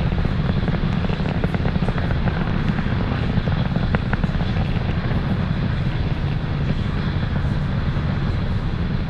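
Falcon 9 rocket climbing through the sound barrier, a steady, dense crackling roar heard from afar, unbroken and even in level throughout.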